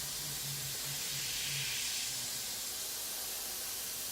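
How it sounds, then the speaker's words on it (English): Steady airbrush hiss from spraying paint onto a Tamiya 1/32 F-16 model, a continuous soft close-up spray lasting several seconds with no pauses or voices. "you could blanket spray this and just build the coats up"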